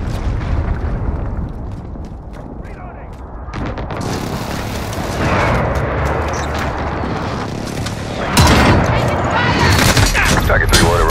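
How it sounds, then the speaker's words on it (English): Enemy precision airstrike explosions from Call of Duty Modern Warfare, a dense barrage of loud booms and blasts building over several seconds, with a heavier hit near the end, amid in-game chatter. "Enemy precision airstrike, take cover!"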